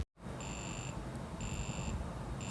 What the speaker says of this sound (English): it is making a beeping noise, kind of like an alarm clock